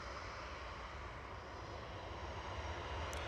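A Ryanair Boeing 737-800 departing Manchester Airport for Corfu sends out a constant loud jet roar, close and heavy with deep rumble, steady across the short stretch.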